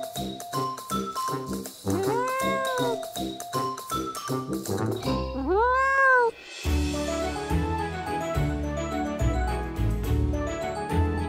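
A kitten gives two long, rising-and-falling meows over loud, bouncy music with a steady beat.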